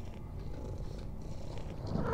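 A cat purring close by, a soft continuous low rumble at a steady rhythm, quiet and alone with no talking.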